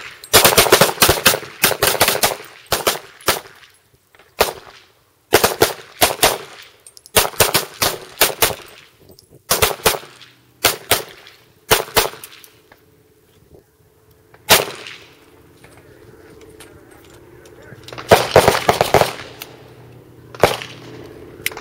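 Handgun shots fired during civilian firearms training, loud and sharp, landing in rapid strings and clusters of cracks with brief pauses between volleys, close by and with no talk over them.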